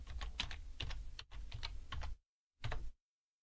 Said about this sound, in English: So I'll just type out my last name